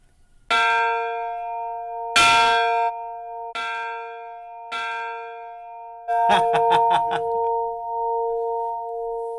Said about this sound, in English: So just push on this bell and it'll ring?